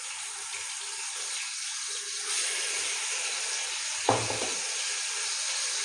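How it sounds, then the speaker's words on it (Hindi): Ginger garlic paste hits lightly browned onions in hot oil for Hyderabadi chicken biryani, a loud, steady close sizzle with one sharp scrape of a spoon partway through, and no voices. "प्याज जो हल्की ब्राउन हो चुकी है, इसमें 2 चम्मच अदरक लहसुन का पेस्ट डाल देंगे।"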